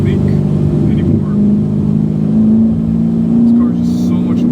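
A Corvette C7 Grand Sport V8 rumbles loudly from inside the cabin, a deep sustained engine drone that swells and eases as it moves, with people talking over it.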